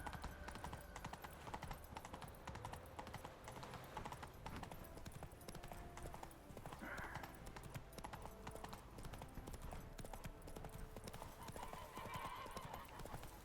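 Hooves of Roach, a horse ridden in the video game Witcher 3: Wild Hunt, in a steady rapid clip-clop gallop throughout, with a brief whinny and game sounds mixed in.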